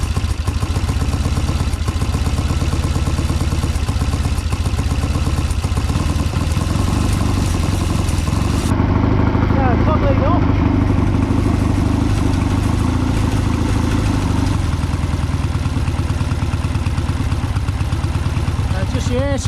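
A Triumph Bonneville T140V twin with Amal 930 Concentric Mk1 carburettors idles steadily and loudly close by during carb balancing, its revs shifting slightly partway through as someone talks over it.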